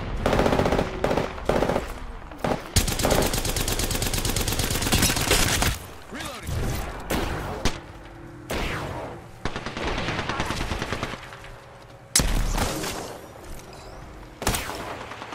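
Loud automatic gunfire from the video game Apex Legends rattles in repeated bursts, stopping and starting across the clip with short gaps between volleys and a few sharp single shots.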